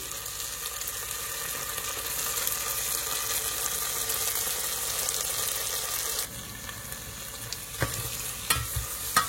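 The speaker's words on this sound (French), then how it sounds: "je fais d'abord fondre du beurre" Butter melts in a pan with a steady bright sizzle and frying crackle that runs throughout, followed by a few sharp clinks and taps near the end.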